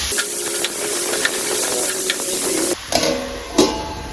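Chicken curry ingredients with turmeric and salt are sautéed in a pan, producing a loud, steady sizzling hiss. The hiss briefly dips near the end, and a few stirring scrapes come through.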